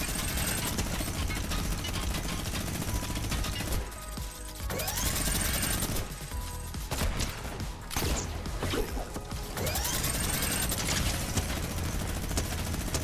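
A minigun in the Fortnite video game fires in long sustained bursts, a dense rapid rattle with brief pauses between volleys, loud and close throughout.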